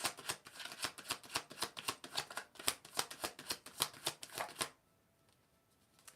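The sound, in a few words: shuffling tarot cards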